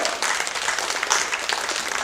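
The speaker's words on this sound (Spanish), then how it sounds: "Dale fuerte aplauso entonces" A church congregation applauds together, a dense, steady wash of clapping that stays loud and even throughout with no voices standing out.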